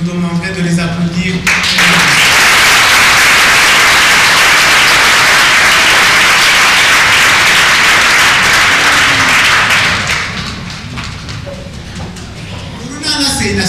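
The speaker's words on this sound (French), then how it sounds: "Et je vous demanderai de les applaudir." Audience applause in a hall at an association's 30th-anniversary ceremony, a dense steady wash of clapping from about two to ten seconds that then thins and fades, with brief speech at the start and end.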